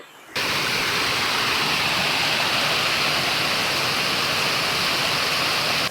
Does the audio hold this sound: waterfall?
yes